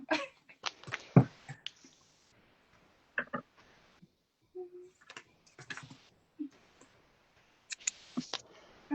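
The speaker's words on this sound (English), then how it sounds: "I shuffled and it came twice." Tarot cards shuffled and handled up close, giving intermittent crisp clicks and short papery bursts with quiet gaps between them and no talking.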